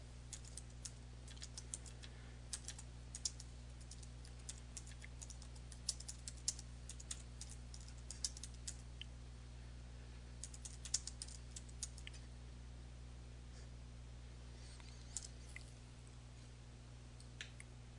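Keys on a computer keyboard tapped in soft, irregular bursts over a quiet, steady electrical hum, the clicks faint and close with short pauses between runs.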